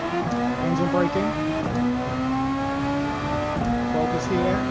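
A Formula 1 car in Gran Turismo 7 engine braking, the high engine note stepping down through downshifts with repeated pitch drops, loud and steady, with someone talking over it.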